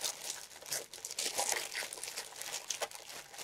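Thin plastic bags crinkle and rustle steadily as eBay haul items, including a wrapped angel ornament, are handled close up, with no talking.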